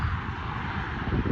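A Delta Airbus A321 airliner at Cleveland Hopkins airport gives a steady broadband engine roar, fairly loud and continuous throughout, with no voices.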